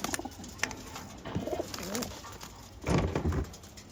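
Pigeons coo at a pigeon seller's loft in Bangalore, a few soft, close rolling coos over light background noise and faint voices.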